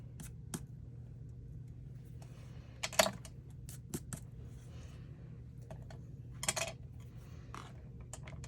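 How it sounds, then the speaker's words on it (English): A tiny elastomer eraser rubs against paper in short, scratchy bursts, close and quiet, with faint clicks and taps in between over a low steady hum. "elastomer eraser. It's really tiny, and it'll erase that."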